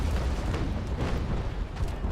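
Ship cannon fire from a brig in Naval Action Legends, a dense, continuous rumbling broadside of booms rolling together at steady loudness with no voices.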